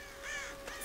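A crow in the Tomb Raider video game gives a single clear caw, fairly close and loud over quiet game ambience.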